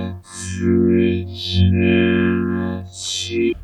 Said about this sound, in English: This kind of thing sounds better with a little bit of reverb, I have to say.